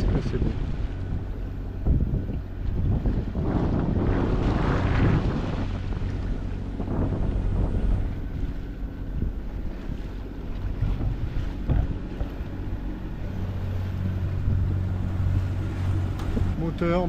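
A sailboat motors across a calm, windless stretch of open ocean in hot, heavy weather, its engine a steady low drone throughout, overlaid by gusty wind buffeting the microphone and some water wash.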